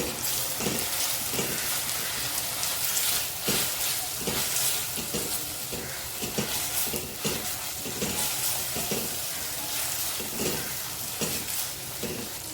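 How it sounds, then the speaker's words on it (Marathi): Ginger garlic paste fries with browned onions in a pan for a Mangalorean chicken curry, giving a steady loud sizzle broken by repeated scraping stirs of a spoon throughout, with no talking. "त्याची आलं लसणीची पेस्ट टाकते मी एक चमचा ती थोडी आपल्याला परतून घ्यायचे"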